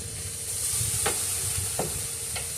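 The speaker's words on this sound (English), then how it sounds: "just go ahead, spritz them a little bit here with our apple cider vinegar" Apple cider vinegar spritzed onto BBQ meat cooking on a grill: a steady close sizzle, broken by three short hissing spray bursts in quick succession.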